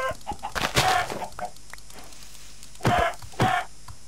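Chicken clucking in the Minecraft video game, a few short scattered clucks and squawks, fairly close and loud, standing alone without talk.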